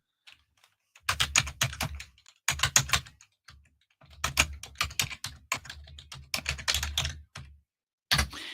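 Computer keyboard typing in bursts of rapid, close key clicks with short pauses between, a final burst near the end, alone without talk.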